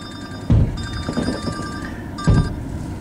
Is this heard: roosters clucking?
no